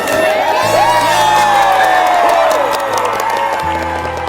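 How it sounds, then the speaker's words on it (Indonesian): A crowd of teachers and students at a school bursts into loud applause mixed with cheers and whoops, a dense sustained roar with a musical tone playing underneath. "Tepuk tangan untuk Bapak Untung."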